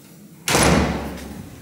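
A front door shuts on moving-out day with a single loud, close slam and thud, then a short fading rumble after a quiet moment beforehand.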